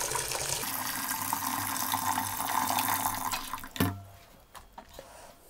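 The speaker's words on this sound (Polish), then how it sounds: "Nalewamy gorącą wodę" Steady stream of hot water pouring into a pot for several seconds, loud and close, then cutting off abruptly with a few faint clinks and drips afterward.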